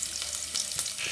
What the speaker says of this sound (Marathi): तेलामध्ये छान पाहिजे असा कांदा परतून घ्यायचा आहे